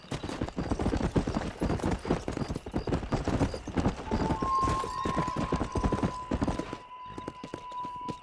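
Horse hooves clip-clop steadily at a riding pace in the Red Dead Redemption video game, loud and close, with a brief whinny and a sustained tone rising near the end before the hoofbeats thin out.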